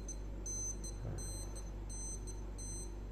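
A Japanese-made digital wristwatch with a 46 mm case and dual alarms gives thin, high-pitched electronic beeps in quick clustered bursts, repeating about every three-quarters of a second over a steady low background hum, with no talking.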